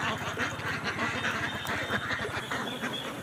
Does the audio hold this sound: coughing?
no